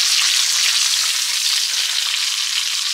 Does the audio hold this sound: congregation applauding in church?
no